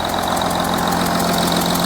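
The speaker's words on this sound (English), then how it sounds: "So as you can hear, the engine is running." Audi Q7 diesel engine idling with a rough-running fault, a steady close, loud mechanical rumble with a faint regular ticking knock throughout, no talk.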